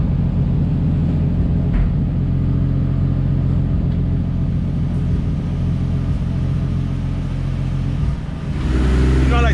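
A Nissan 240SX with a 1.5JZ engine runs on a dyno, a deep steady engine rumble idling throughout before a short rising rev near the end, with speech faintly over it.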